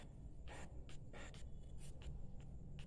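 A pen scratches a math answer onto paper in short, quiet strokes, several brief bursts spaced irregularly over a low steady room hum.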